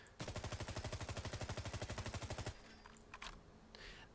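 A G36 rifle in a Fallout 4 mod fires a rapid, steady full-auto burst of about two dozen evenly spaced, loud shots, then stops, leaving scattered clinks and faint echoes.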